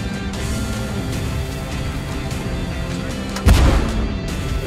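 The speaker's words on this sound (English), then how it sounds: "We're under fire." Tank combat in a video game: steady rumbling battle noise broken by one loud, heavy artillery blast near the end that booms and then trails off, with no talking.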